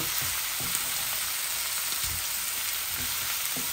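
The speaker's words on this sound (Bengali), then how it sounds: "তরকারিগুলোকে ভালো করে ভুনবো" Carrot and zucchini sauté in a pan with a little oil left from frying rohu fish. A loud, continuous sizzle fills the whole stretch, broken by soft stirring knocks.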